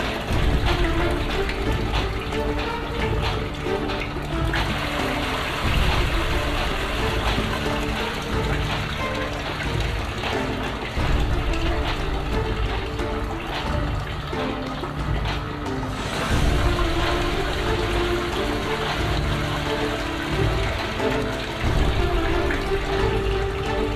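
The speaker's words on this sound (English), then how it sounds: "Still pumping water." Water being pumped through a free energy setup runs steadily for the full stretch, a continuous wet rushing and gurgling with a faint mechanical hum beneath it and no voices.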